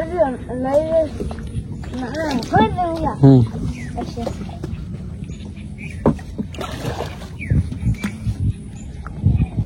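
A wooden village boat rowed on water after fishing, with paddle strokes and light splashing under loud, rhythmic group chanting and talking from the people aboard.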